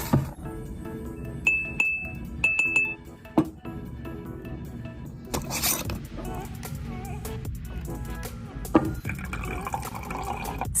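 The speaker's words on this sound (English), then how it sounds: "then I just poured a ton of apple cider vinegar on top" Glass jar clinking and liquid splashing as apple cider vinegar is poured over ginger, turmeric, horseradish, garlic and onion, with scattered chinks and taps against the glass.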